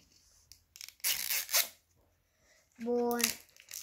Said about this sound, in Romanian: Mai ajută-i odată fermoarul.